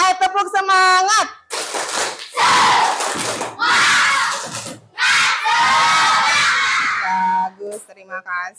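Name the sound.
children doing a clapping cheer (tepuk semangat)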